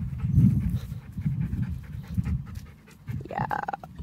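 Dogs pant close by in quick, steady, rhythmic breaths, with a brief higher whimpering whine near the end and some scuffling movement.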